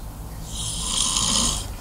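A man snores, recorded on a phone: one loud, drawn-out rasping snore swells and fades across a single breath, close to the microphone.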